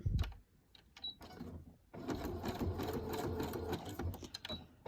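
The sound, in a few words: sewing machine stitching a seam in fabric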